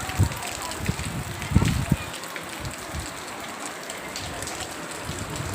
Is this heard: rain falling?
yes